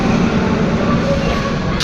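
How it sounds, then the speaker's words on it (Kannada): A train pulls out of Ghaziabad Junction with a steady, loud, dense rumble of wheels and carriages that runs continuously throughout. "ಫೈನಲಿ ನಮ್ಮ ಟ್ರೈನು ಗಾಜಿರಾಬಾದ್ ಜಂಕ್ಷನಿಂದ ಮೂವ್ ಆಯ್ತೈತೆ"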